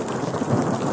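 Thunder rumbles steadily under continuous rain during a lightning snowstorm, a dense, close wash of rolling low noise with no talking.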